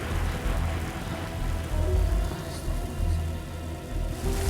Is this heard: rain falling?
yes